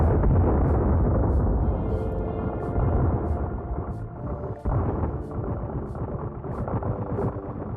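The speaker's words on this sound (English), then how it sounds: "got the ultimate nuclear explosion onto the base" A mini nuke goes off in the Sons of the Forest video game, a sustained roaring, rumbling blast with heavy low-end that rolls on for several seconds, loud and without any voices.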